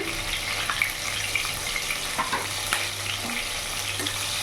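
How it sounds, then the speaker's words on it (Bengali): Brinjal slices seasoned with salt and turmeric fry in hot oil, giving a dense, even crackle and sizzle with occasional soft clinks of a utensil throughout. "এবার লাল লাল করে ভেজে নামিয়ে নেব।"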